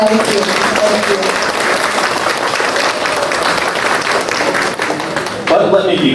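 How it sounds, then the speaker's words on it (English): An audience at a community event shared by Asian American community members and police in New York breaks into loud, sustained applause, steady throughout, with a voice rising briefly at the end. "Please give them a warm round of applause."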